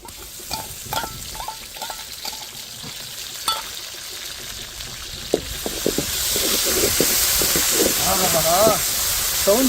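Ginger paste sizzles and crackles in hot oil in a pan, with sputtering pops and stirring clatter, the hiss swelling louder toward the end as a voice talks over it.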